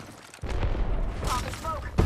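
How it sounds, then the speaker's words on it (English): Rapid gunfire in a shooter video game, dense overlapping shots and booms heard close over about a second and a half, with a voice speaking under the din. "They spotted me. I'm taking shots."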